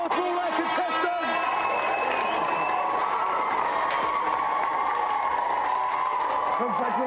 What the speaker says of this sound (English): Let's have a big round of applause for all our contestants.